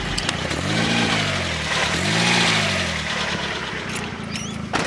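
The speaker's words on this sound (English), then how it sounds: "give it a little rev" A car engine revs up and falls back in two rising-and-falling swells, close and fairly loud, then settles to a steady idle.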